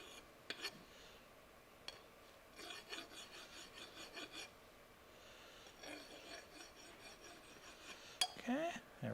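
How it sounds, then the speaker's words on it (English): A hand file rasps across metal to remove a small burr on a press brake build, short scraping strokes in several bursts with light clinks between, quiet and close. "So let's just get rid of that little burr."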